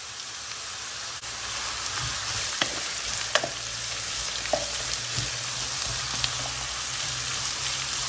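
Onions fry in a pan with a steady sizzling crackle, punctuated by occasional utensil scrapes and taps against the pan.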